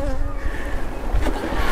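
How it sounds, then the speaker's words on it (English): A steady buzz of a few honeybees in a beehive, droning close by, continuous and fairly loud with no voices. "A few bees in there."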